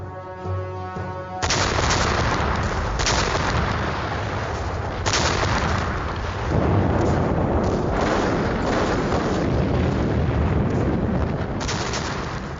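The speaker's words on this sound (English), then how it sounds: "the guns of the Red Army began a ferocious bombardment of German forces" Artillery barrage from Red Army guns shelling German positions in Belarus during the 1944 Soviet offensive: a dense, continuous rumble of booms and blasts with several sharper bursts standing out, loud and sustained throughout, with no voices.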